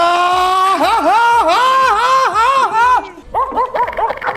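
A person's voice imitates a dog, producing a run of rhythmic, pitched barking yelps, loud and close, followed by a quicker burst of shorter yips.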